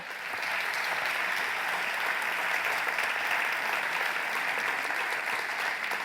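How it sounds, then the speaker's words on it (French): Audience at an eco-activities award ceremony applauding a trophy presentation, dense continuous clapping that swells in and holds steady, fairly close, with no talk over it. "sous les applaudissements d'une foule en délire"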